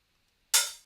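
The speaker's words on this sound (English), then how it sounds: "on the break I have the same open hat, but I've played with the attack more, so it sounds like this." A single open hi-hat sample with its attack adjusted, one bright, crisp hit that fades away over a short sizzling tail, heard close and alone.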